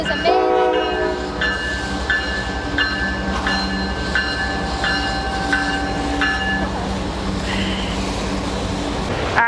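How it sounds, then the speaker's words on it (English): A train rolls past near Brown's Island on a river with rapids, its loud horn sounding in repeated blasts over a steady rumble and wheel noise that fills the whole stretch. "we're just going to take in the sight of the train as it continues to go by"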